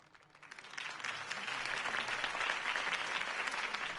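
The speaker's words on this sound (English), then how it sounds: "could have heard that applause" A crowd applauds in a Batman video game, building from quiet clapping into steady, sustained applause that fills the space without a break.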